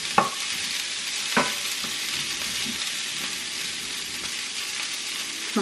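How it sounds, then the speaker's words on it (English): Minced garlic sautéing in a pan for a broccoli dish, giving a steady, close sizzle throughout with a few sharp utensil scrapes and stirs near the start and middle. "So you're basically just gonna saute it really quick."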